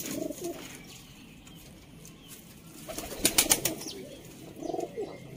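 Sialkoti rooftop pigeons give soft, low cooing calls near the start and end, with a burst of wing flapping in the middle over a quiet outdoor background.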